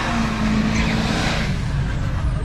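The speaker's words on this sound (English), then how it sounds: "Oh, Duramax." A Duramax diesel pickup truck idles and rumbles close by at a street car meet, its low, steady engine roar running unbroken through the whole stretch with no talk.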